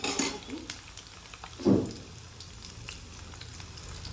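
Garlic and curry leaves dropped into hot oil, giving a soft, low sizzle with a brief louder crackling burst partway through, fairly quiet and without voices.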